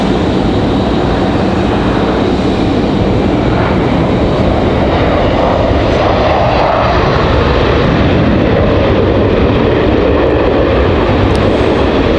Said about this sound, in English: Our final arrival here of the evening. Delta making it in just in time.